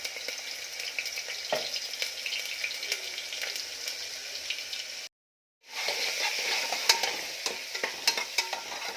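Crushed garlic tempering sizzling and crackling in hot oil, a bright continuous hiss with stirring scrapes, briefly cutting out before resuming.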